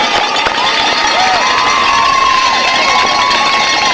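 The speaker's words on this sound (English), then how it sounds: "here's the most noise we've heard out of the Seminole crowd tonight as many of them on their feet in tribute to Coach Sarcosta and his 200th win" A high school football crowd of Seminole fans roars and cheers loudly and continuously, many on their feet in tribute to their coach's 200th win, with shouts rising through the dense crowd noise.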